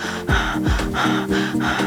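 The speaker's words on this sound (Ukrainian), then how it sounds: "Дуже часто люди дихають ем, плечима прям коли вдихають, дихають так." A person breathes in with the shoulders to show incorrect breathing, making four or five close, loud, rhythmic breaths that sound audibly forced.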